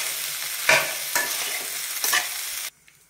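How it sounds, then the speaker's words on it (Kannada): Pumpkin stir-fry in a pan being mixed with fresh coriander: three soft stirring strokes over a quiet, even sizzle, close by, before the sound cuts off abruptly. "ಸ್ವಲ್ಪ ಕೊತ್ತಂಬರಿ ಸೊಪ್ಪು ಹಾಕಿ ಮಿಕ್ಸ್ ಮಾಡಿದರೆ ಪಲ್ಯ ರೆಡಿ ಆಯಿತು"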